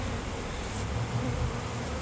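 Honey bees buzz steadily around a hive during an inspection, a dense close swarm drone with no talking.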